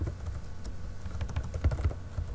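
Steady keystrokes on a computer keyboard while entering text in Maple math software, a close, even run of soft clicks lasting a couple of seconds with no talking.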